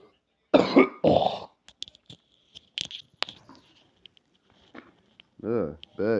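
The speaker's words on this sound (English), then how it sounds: "cough." A person coughing twice in quick succession, loud and close, then quieter clicks and taps, with a short vocal sound near the end.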